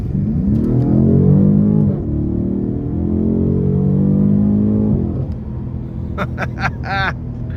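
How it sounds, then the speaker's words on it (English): Loud 2019 BMW M850i engine roar rising in pitch under hard acceleration, with a rumbling exhaust note that drops at a gear change and builds again. "the exhaust just makes it that much more insane when you put your foot down"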